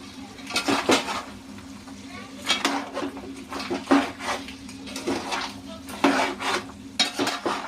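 Goat head and leg pieces being stirred with ginger-garlic paste in a cooking pot, with repeated scraping and clinking of a spoon against the pan in an uneven rhythm and a faint sizzle underneath.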